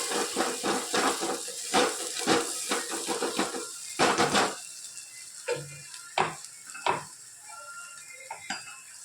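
A spoon stirs salt, red chili powder, coriander-cumin, turmeric, garam masala and asafoetida in a pan, giving repeated close scraping clinks in an uneven rhythm with quiet gaps between strokes.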